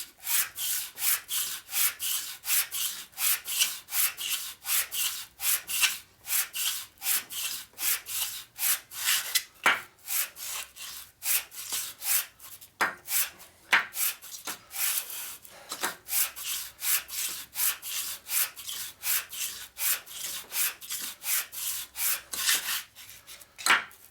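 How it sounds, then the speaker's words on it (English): Hand sanding of a 1947 Harley-Davidson EL knucklehead 74ci motor case with sandpaper: close, steady back-and-forth scraping strokes in a quick regular rhythm, with a few brief pauses and no talking. "I'm gonna try sanding this direction."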